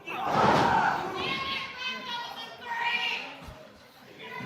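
A wrestling crowd roars and cheers for Hunter at an ACW Proving Ground show, a dense, loud swell of many voices that surges early, then rises and falls in waves.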